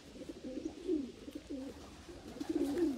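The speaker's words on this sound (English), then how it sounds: "So this is the fifth national ace pigeon." A racing pigeon, a national ace marathon bird, coos in soft, low, rolling phrases, close and fairly quiet, with a brief pause midway before cooing again.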